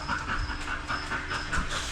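A dog pants close by in quick, steady, rhythmic breaths that continue throughout, with no voices.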